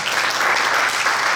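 A church congregation claps loudly and continuously, a dense, even burst of applause with no pauses.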